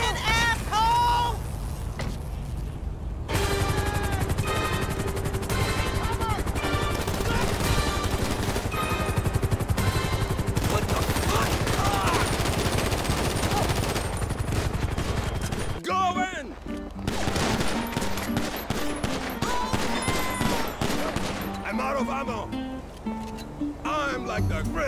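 Gunfire in the video game GTA 5 (Grand Theft Auto V), loud rapid bursts mixed with game music and effects, with voices shouting throughout.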